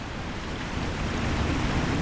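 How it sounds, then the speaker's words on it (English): The great Durin's Beard waterfall in the LOTRO game roars with a steady, dense rush of falling water. It is loud and unbroken throughout, with no voices. "the greatest of these torrents has been brought together to form the great waterfall that came to be known as Durin's Beard"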